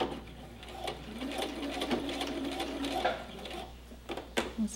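A sewing machine stitches back and forth to lock the seam at the end of an edge-finished fabric hem, with uneven bursts of whirring and small clicks, fairly quiet and close.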